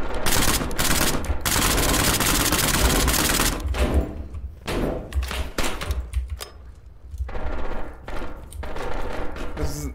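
Enemies armed with guns fire in the SCP Pandemic video game, dense rapid gunfire bursts that are loud and continuous at first, then break into shorter irregular volleys.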